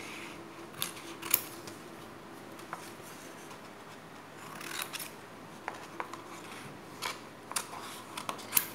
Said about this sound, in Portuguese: E aí, eu vou cortar o que eu desenhei aqui.